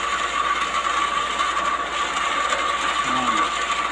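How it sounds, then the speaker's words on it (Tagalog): Motor-driven water pump running steadily while a faucet is being made in Ilocos, giving a continuous loud mechanical whir with a rattling, gear-like texture that holds throughout. "Ayan, lalong lumalakas yung makina."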